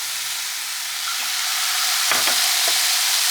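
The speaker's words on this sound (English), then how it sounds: "we'll turn this up to medium so that we can get a nice fry going" Fried rice sizzles in a pan with soy sauce and rice vinegar, a loud, steady hiss that swells toward the end, with a few clinks and scrapes as the rice is stirred.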